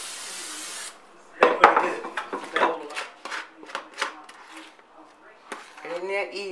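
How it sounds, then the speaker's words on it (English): Pam cooking spray hissing onto baking pans in a home kitchen for a pound cake, with short spray bursts, light metallic rubbing and a voice speaking briefly near the end. "Grease your pans real good with Pam."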